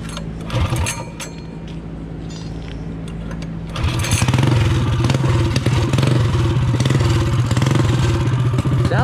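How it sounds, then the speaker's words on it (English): Baja Warrior MB-200 minibike engine with an aftermarket exhaust idling roughly, then revving up hard and holding a loud, steady, raspy drone close by. "Sounds good with that exhaust, man."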